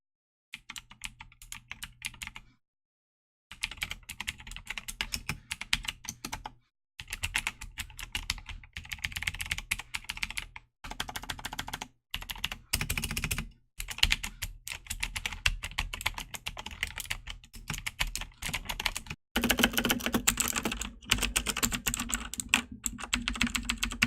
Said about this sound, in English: what I'm going to do is a quick typing test on this